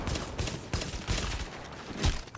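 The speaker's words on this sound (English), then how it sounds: "he popped explosive on his M1A" Rapid gunfire from an M1A marksman rifle loaded with explosive rounds in The Division's Dark Zone, a string of loud, punchy shots in bursts with dense, noisy combat around them.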